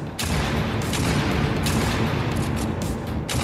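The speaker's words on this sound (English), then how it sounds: "shotgun is the best thing to use here" Shotgun fire in the PS4 game Dreams, a string of heavy booming blasts in quick succession over a dense, loud battle rumble.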